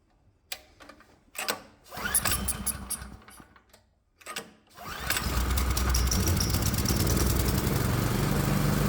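A 212 Predator small engine with a swapped carburetor sputters through several short pulling attempts, then catches and runs at a steady, loud, buzzing idle that continues to the end.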